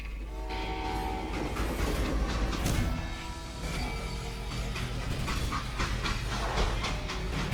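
A freight train rumbles along steadily in a Wild West video game, with rattling wagons, clanking rail noise and a broad low rumble filling the scene throughout, without any voices.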